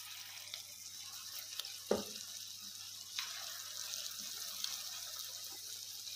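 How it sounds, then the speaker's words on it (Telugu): Prawns dropped into hot oil, a steady soft sizzle running throughout with a brief sharp clack and a few small splashes, fairly quiet and without talk. "బాగా మరిగిన తర్వాత ఈ ప్రాన్స్ వేసి వేయించుకోవాలి"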